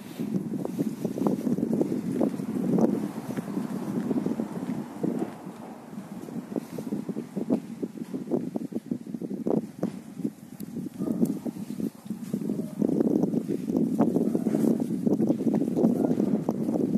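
Strong wind buffets the microphone in continuous low rumbling gusts, swelling and easing throughout with no voices.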